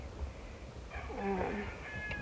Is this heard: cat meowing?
yes